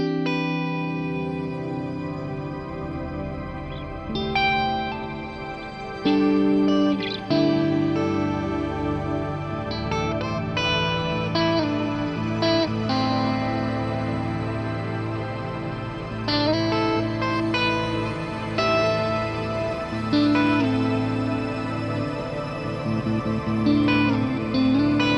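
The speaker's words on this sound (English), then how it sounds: "So that's just using the reverb block to create Shimmer" Guitar played through a shimmer reverb with pitch shifting and a low cut, sustained chords that ring out into a bright, octave-up wash with long, layered tails and no talking.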